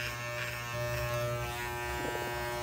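Electric hair clippers buzz steadily and close up while shaving the side of a woman's head, a continuous droning hum that holds for the whole stretch with slight shifts in pitch as the blade moves across the scalp.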